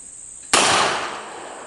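A 1917 Smith & Wesson DA45 revolver fires one sharp, loud shot at a steel spinner target outdoors, a single crack with a short trailing decay and no talk.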